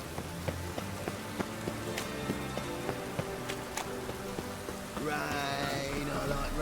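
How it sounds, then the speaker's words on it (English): Rain falls in The Witcher 3 as a soft, continuous patter with scattered sharper drops, and a denser splashing swell comes in near the end. "Rain, I like"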